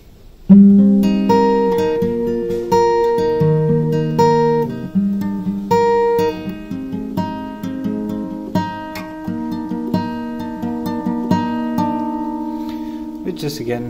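A guitar plays the full verse of a song, a steady stream of picked single notes and ringing open strings repeating in phrases, close and clean, lasting about fourteen seconds with no voice over it.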